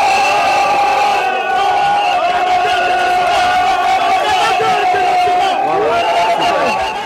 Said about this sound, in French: C'est une foule immense à Douala qui est sortie pour l'accueillir